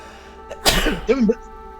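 One sharp sneeze bursts out close to the listener, followed by a brief voiced sound, in an otherwise quiet room.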